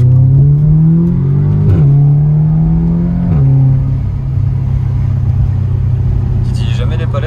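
A road car accelerates hard, its engine rising in pitch, then dropping sharply at two gear changes before settling into a loud steady rumble; close and strong, with a brief rattle near the end.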